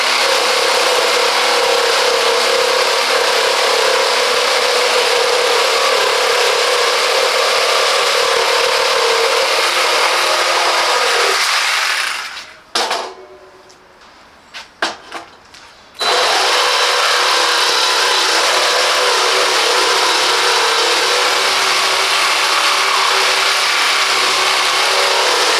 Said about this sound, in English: power tool designed for cutting through a variety of materials, including wood, metal and plastic.